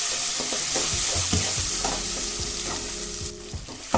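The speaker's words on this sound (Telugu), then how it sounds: "టమాటా పచ్చడి వేసేస్తున్నాం." Ground tomato chutney with turmeric fries in a pan, a loud steady sizzle overlaid with repeated scraping and knocking stirs of a spoon, close up and without speech.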